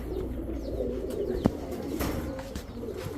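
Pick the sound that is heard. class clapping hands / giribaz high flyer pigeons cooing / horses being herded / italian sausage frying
giribaz high flyer pigeons cooing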